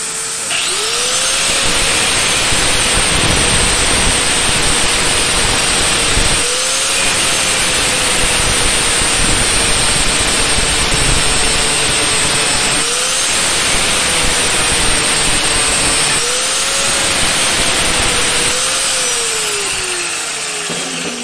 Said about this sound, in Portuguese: Com a lixadeira e a furadeira.